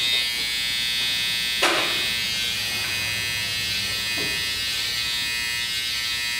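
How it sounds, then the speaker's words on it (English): Electric hair clipper buzzing steadily throughout a barbershop medium skin fade haircut, a close continuous drone with brief scraping touches as the blades work through hair. "when you're cutting their hair, you go like this with the clipper"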